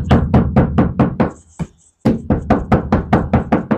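Rapid, dull knocking on the sound-damped headliner of a Hyundai Starex, a steady run of muffled thuds, a brief pause, then the knocking resumes at the same quick pace.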